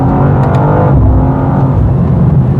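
A 2025 BMW M2 facelift engine drops through a downshift, a loud, steady low rumble with a brief burst of rising revs near the start, heard from inside the car.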